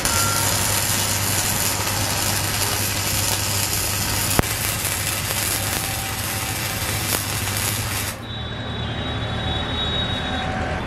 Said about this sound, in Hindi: यहाँ पर हम एक बार और वेल्ड करते हैं और देखते हैं।